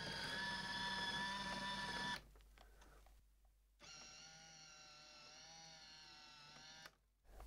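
A home cinema's motor driving a chain-operated roller-blind top masking, a steady whirring electric hum with a tonal whine, running for a couple of seconds, stopping briefly, then running again for several seconds, faint and close.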